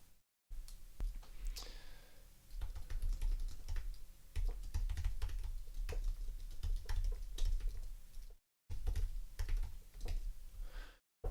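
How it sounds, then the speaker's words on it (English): Quick, close clicking on a computer keyboard comes in rapid bursts of keystrokes with a few short breaks, and no voices are heard. "I'm just going to type this up to save some time here."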